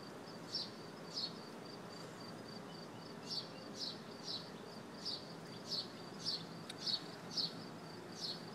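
Soft buzzing of honey bees around a hive, with repeated brief insect buzzes passing close by over a low, steady background hum.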